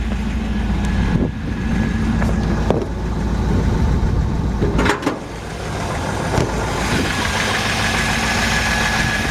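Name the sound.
1958 Chevy Apache engine idling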